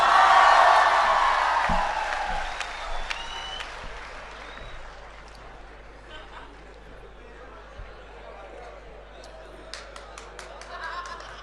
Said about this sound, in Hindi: हाँ जोर से बजाओ तालियां